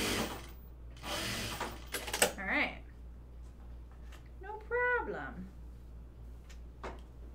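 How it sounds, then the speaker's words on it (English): Sewing machine presser foot lifting and lowering as napkin fabric is walked around a curve, giving a few close mechanical clicks and short whirring bursts separated by quiet pauses. "that's my presser foot going up and down so that I'm walking it across around the curve here"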